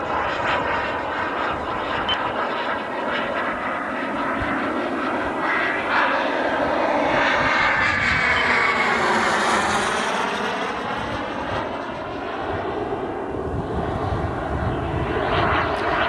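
An RC model jet in flight, with gear and flaps raised, gives a loud continuous turbine roar that swells and sweeps in pitch as it passes, with no pauses.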